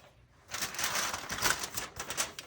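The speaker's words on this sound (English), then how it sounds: "Let's take this foil off." Aluminum foil crinkles and rustles as it is peeled off a baked pasta dish fresh from a 400-degree oven, a close, crisp crackling that starts after a brief pause and continues in uneven bursts.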